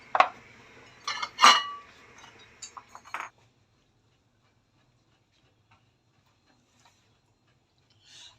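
Metal utensils clink against a dish while aloo chana chaat is served: a few sharp clinks and scrapes in the first seconds, then near silence with one faint tap at the end.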